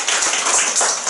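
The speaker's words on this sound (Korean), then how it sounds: "하나님의 영광의 박수 올리겠습니다" Church congregation applauding together, a dense steady wash of claps from many hands filling the room, fairly loud and continuous throughout with no talking.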